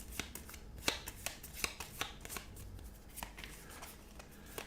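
Cards for the Earth board game are shuffled by hand, a series of quick riffling snaps and papery slaps in uneven bursts, close and fairly crisp with no talking.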